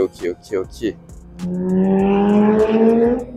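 Engine drone from Porsche cars lapping a race circuit rises into a sustained, accelerating tone after someone speaks briefly at the start.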